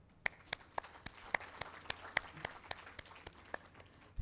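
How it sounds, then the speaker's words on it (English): A small audience at the opening of a university learning center gives sparse applause: a dozen or so distinct hand claps at an uneven rhythm, quiet and somewhat distant. "Please join with me to give a big round of applause to all these amazing people."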